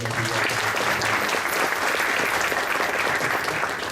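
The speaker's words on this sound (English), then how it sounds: "Everyone, please give a round of applause." Audience applause fills an awards ceremony hall, a dense steady wash of many hands clapping at close range, loud and continuous throughout with no voices over it.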